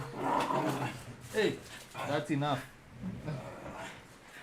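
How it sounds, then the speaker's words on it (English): A dog plays indoors, giving a few short barks, yips and growly whines close by, mixed with a voice speaking. "apologies if you hear my dog playing in the background"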